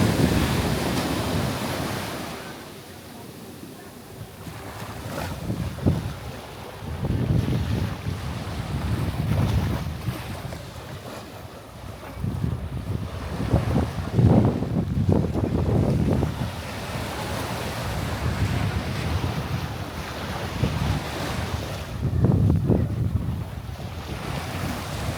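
A boat rides the sea off Santiago island, Cape Verde, with constant wind buffeting and surging wave swells that rise and fall in loud bursts throughout, and no talking.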